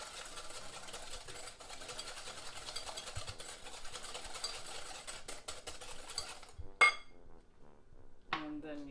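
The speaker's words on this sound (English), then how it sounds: "you just beat this all together" Sugar, salt and vanilla essence are beaten together for rosa cookie batter, making a continuous whirring, rattling drone with faint clinks, then the noise stops abruptly and a couple of brief bursts follow.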